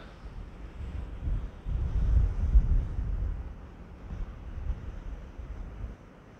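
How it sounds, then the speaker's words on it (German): Wind gusts across the microphone on Calle Roma, a street in Gran Canaria, making a low rumbling buffet that swells for a few seconds in the middle and then eases off. No one speaks. "Ja, man sieht, wir haben Wind"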